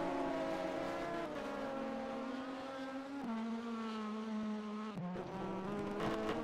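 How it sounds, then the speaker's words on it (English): BMW M3 GT race car in rFactor 2 at Misano, its engine screaming steadily through gear changes at high revs, moderately close, with brief downshift dips and tire noise. "now he's pushing the BMW to its limits. You can hear it just under me in the background there."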